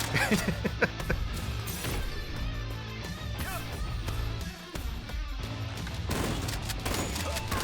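Rapid gunfire from the rhythm shooter BPM: Bullets Per Minute, dense continuous shots layered over loud game music, with crashes and effects throughout and no clear talk.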